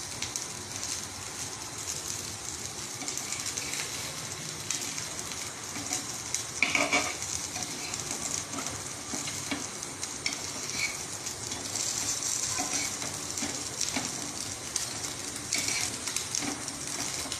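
Chopped snake gourd fries and is stirred in a hot pan, giving a steady close sizzle with scraping stir sounds running through the whole stretch, no talking.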